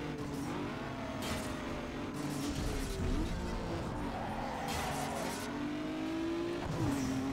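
Race cars in Need for Speed Underground 2 drive continuously, engines droning and revving with pitch sweeps as they shift and accelerate, with brief tire noise, forming a steady loud bed with no talk.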